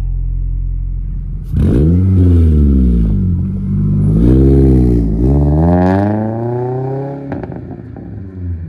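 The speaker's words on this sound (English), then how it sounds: "Now to turn the car off, and then start her up." A car whose ECU has just been flash-tuned starts up, its engine revving with rising and falling sweeps before settling toward a loud, close idle.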